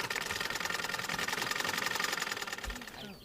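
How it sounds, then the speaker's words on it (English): A sewing machine runs fast in a rapid, steady rhythmic whirr of stitching, close and continuous, then eases off near the end. "he then started operating his sewing machine much faster"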